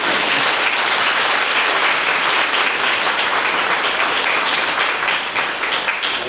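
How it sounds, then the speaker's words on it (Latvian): An audience at a celebration in a culture house applauds for Andis, with loud, dense, sustained clapping throughout and no talking. "Aplausi Andim."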